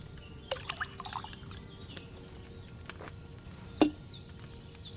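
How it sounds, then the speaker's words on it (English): Wine poured into an alchemy cauldron in the medieval game Kingdom Come: Deliverance 2, heard as faint trickling and dripping liquid with a couple of louder splashes over quiet background, with no talking. "Select the right base and press E to pour it into the cauldron."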